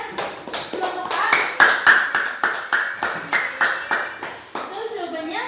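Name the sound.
group applause in a classroom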